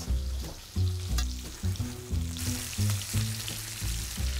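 Filet mignon medallions searing in a hot pan give a steady, close sizzle that runs the whole way through, overlaid by a rhythmic, melodic tonal backing.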